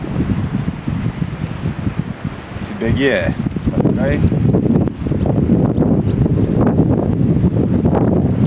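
Wind gusts at the Devynakiai carp fishing pond, a broad rumbling buffet against the microphone that swells and holds steady while someone talks over it.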